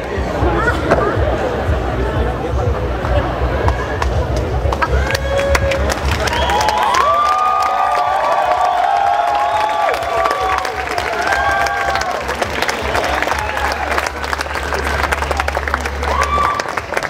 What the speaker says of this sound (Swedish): Vi börjar med en stor applåd till!